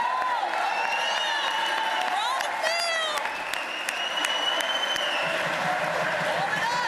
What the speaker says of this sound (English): 25 senators stood up to clap for that